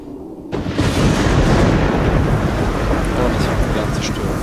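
A storm breaks out in the god game Godus, with a sudden loud onset into continuous roaring rain and wind noise and low rumbling thunder throughout.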